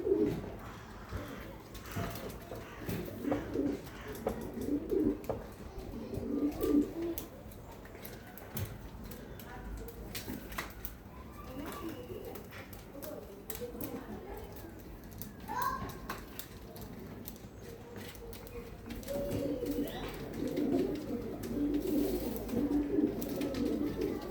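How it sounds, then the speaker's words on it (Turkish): Pet pigeons coo repeatedly at feeding time, low throaty bursts rising and falling close by, while someone talks over them and soft wing and handling rustles come and go. "kuşlarımızı yemlemeye geldik tekrardan"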